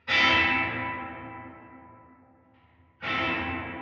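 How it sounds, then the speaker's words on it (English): A bright guitar chord through the reverb of a Line 6 Helix rings out and decays into a long, airy tail heavy in high end, then a second chord strikes and blooms again, loud and close. "Listen to the high end of the reverb."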